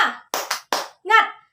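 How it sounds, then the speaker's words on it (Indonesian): A group of schoolchildren in an Indonesian Islamic primary school classroom claps in a quick patterned rhythm, several sharp bursts of hand claps followed by a short shouted chant of "semangat". "Yuk, tepuk semangat bersama-sama ya."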